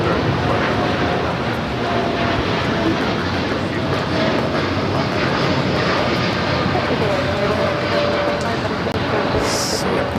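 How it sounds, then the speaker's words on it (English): Steady roar of an Air Canada Dreamliner jet taking off from runway 25 right on the south side of LAX, a continuous broad engine rumble heard from a distance, constant in level throughout. "We also have an Air Canada Dreamliner taking off here on the south side"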